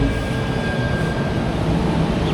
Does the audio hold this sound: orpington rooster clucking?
no